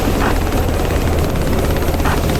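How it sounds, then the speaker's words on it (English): U.S. Navy rescue helicopter in the DCS F-18 flight simulator played in VR, a loud, steady, close rotor and engine drone that holds without a break and with no talk. "This is U.S. Navy rescue helicopter on channel 16."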